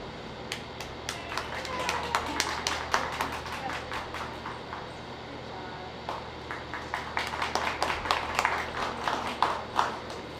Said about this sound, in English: let's give these kids a round of applause for everything that they've done so far